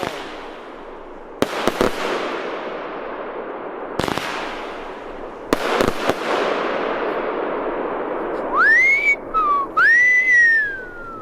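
A Don Bombero firework mine fired from about 50 metres gives several sharp blasts with long crackling, decaying tails, followed by rising whistling shots near the end.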